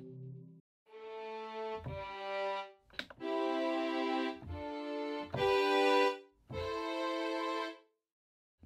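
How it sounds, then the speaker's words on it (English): Stock Logic string ensemble with all plugins bypassed plays sustained chords in separate swells with short gaps between them, dry and plain, with no talking. "just a basic built-in string arrangement that comes installed with Logic"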